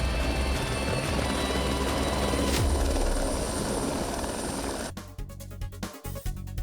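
A helicopter's rotors and engine give a steady, loud, roaring whir that cuts off abruptly after about five seconds, followed by a few quieter clatters.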